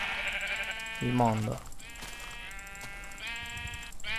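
Sheep bleating over a dubstep track, a loud wavering bleat cutting in partway through with harmonic musical tones sustained around it; a voice speaks briefly.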